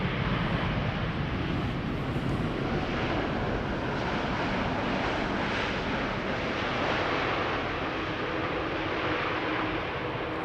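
KLM Boeing 787-9 Dreamliner arriving from San Jose, a steady broad roar of jet engines, fairly loud and unchanging throughout, with no voices.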